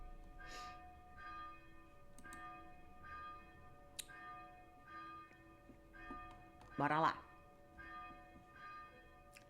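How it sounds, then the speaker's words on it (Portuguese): A church bell tolls repeatedly in slow, steady strokes across the clip, with one louder, ringing stroke near the end, beneath a continuous bed of sustained tones and brief speech. "era pra ser só 6 badaladas, mas ele só toca"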